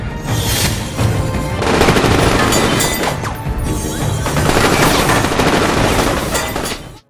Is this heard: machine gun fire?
yes